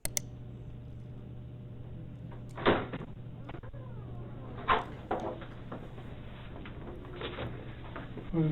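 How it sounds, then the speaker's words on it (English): A detective opens a door: a few soft clicks and knocks spread over several seconds, sitting on a steady low hum with no talking. "sound of the door being opened by a detective"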